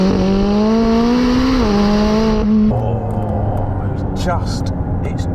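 A McLaren 675LT supercar engine accelerates, a loud, steady tone climbing in pitch with a gear shift midway, then dropping to a lower drone, heard from inside the cabin while someone talks over it.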